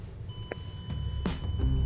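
Parking sensor on a car with snow covering it, giving a few short electronic beeps over low rumbling background noise.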